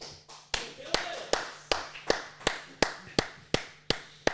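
Sparse, individual hand claps ring out as an audience applauds a guest making a long walk to the stage from the back of the room, with sharp, evenly spaced claps repeating steadily at close range.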